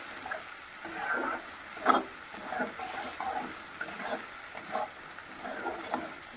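Spice paste sizzling and frying in a pan for a cabbage and paneer curry, with soft stirring scrapes and small crackles running steadily throughout and one brief louder clatter near the start.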